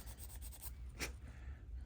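A plastic push pin on a Street Hawk light bar is sanded by hand in a short, faint stretch of soft, steady rubbing and scraping strokes, close up and alone.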